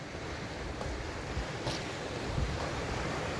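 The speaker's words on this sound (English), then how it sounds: "but there's fairly big waves coming in there" Fairly big ocean waves rolling in across a bay on a winter day, a steady broad wash of surf with wind noise buffeting the microphone.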